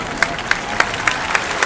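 A tennis crowd at the Monte-Carlo Masters applauds at the end of a centre-court match, with rhythmic, sharp clapping bursts that rise above a dense layer of general hand claps.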